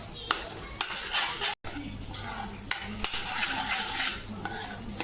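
Onion-coriander paste fries with turmeric and salt while a spatula stirs it around the pan for an egg masala curry, with repeated sharp metal clinks and scrapes over a low sizzle and a brief silent gap.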